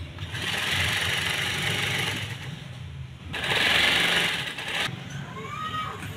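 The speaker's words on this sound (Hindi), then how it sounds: "ये ऐसे करके हमने फिर इसके ऊपर सिलाई मार देनी है, बाजू बंद कर देना" Sewing machine stitching the sleeve of a men's kameez, running in steady whirring bursts with a brief pause midway, close and fairly loud.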